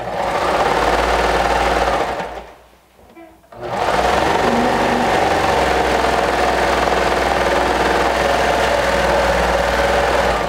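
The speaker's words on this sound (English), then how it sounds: "I'm going to stitch with a 1/2 inch seam allowance" A sewing machine stitches a fabric seam up close with a loud, steady motor whir. The stitching pauses briefly for about a second, then resumes at the same even pace.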